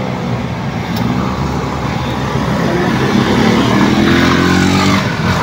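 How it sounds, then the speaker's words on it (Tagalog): Tricycles and other traffic roll along the Maharlika Highway between Gumaca and Lopez, Quezon. Engines drone loudly and continuously as vehicles pass close by, and a motor rises in pitch near the end. No one speaks. "Ayan ang mga tricycle, malayo ang biyahe niyan."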